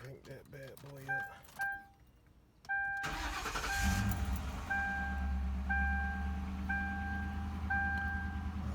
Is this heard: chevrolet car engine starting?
yes